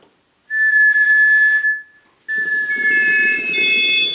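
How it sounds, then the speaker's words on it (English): Two sustained whistled notes sampled into a Casio CTK-2400 sampling keyboard, the first steady and held about a second, then after a short pause a second whistle with a shifting pitch. "I'll just kind of whistle"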